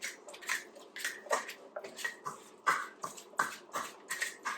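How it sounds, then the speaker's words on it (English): Cooked black beans and sweet potato are mashed into a burger mixture, giving about a dozen rhythmic, moist squelching strokes, close and moderately loud, with no talking. "And now I'm gonna kind of mash it all up. And just do some mashing here."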